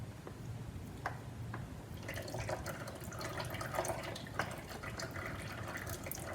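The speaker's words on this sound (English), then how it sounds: "Now I got the oil pan underneath because I know it's going to drip out." Engine oil from a 2021 John Deere 2025R tractor draining into an oil pan, a continuous trickling and splashing stream with scattered drips, close and moderately quiet, growing busier midway.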